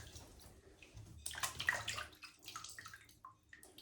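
Water splashes and runs in short, uneven gushes as a 50-caliber Hawkins black powder muzzleloader barrel and its cleaning tools are rinsed, close and fairly faint with quiet gaps between.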